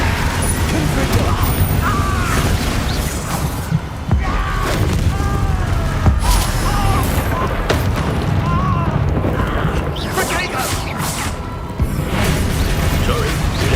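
Fiery Confringo spell blasts in the Hogwarts Legacy game, repeated booming bursts amid dense combat noise, with voices shouting over the action.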